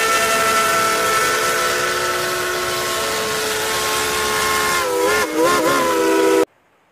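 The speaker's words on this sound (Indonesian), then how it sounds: "Wadidaw, ini kereta api uap." A steam locomotive sounds a long, loud, steady whistle over a hissing rush of steam, the tone wavering briefly near the end before stopping suddenly.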